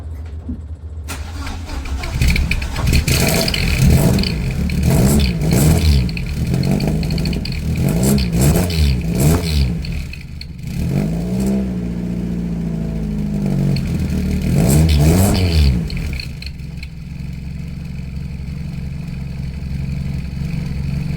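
A Mk2 Ford Escort engine with an added exhaust silencer bolted into the tailpipe, revved repeatedly in close, loud bursts that rise and fall with several blips, then settles to a steady idle.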